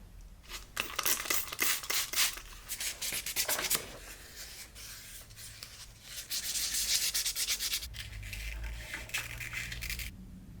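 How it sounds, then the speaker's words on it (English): Close, steady wet sanding of car parking sensors with sandpaper and water, rhythmic rasping strokes in two long stretches separated by a brief pause. "with the sandpaper and water we introduced some small scratches"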